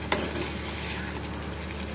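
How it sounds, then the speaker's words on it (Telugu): Food is mixed in a hot pan, a brief steady sizzle with one faint scrape near the start, close and without talk. "ఇది మొత్తం పచ్చివాసన పోయేదాకా మంచిగా కలపాలి"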